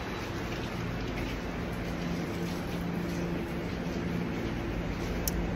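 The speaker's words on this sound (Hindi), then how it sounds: "बाहर बारिश आ रही है" Steady rain falls outside as an even, continuous hiss, moderately faint and unbroken, with no voices over it.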